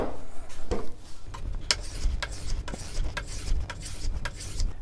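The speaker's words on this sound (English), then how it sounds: "I'm going to go ahead and chamfer this edge." Rasping, rubbing strokes sound as the edge of a wooden crosscut sled fence is chamfered, a series of short scraping passes close by, with no talk.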